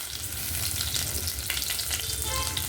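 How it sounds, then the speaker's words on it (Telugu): Mustard seeds, cumin, urad dal and two dried red chillies fry in hot oil, producing a loud, continuous sizzle with crackling pops and some stirring, close by and uninterrupted by talk. "ఆవాలు, జీలకర్ర, మినపప్పు వేయాలి. అలాగే 2 ఎండుమిర్చి కూడా వేసాను."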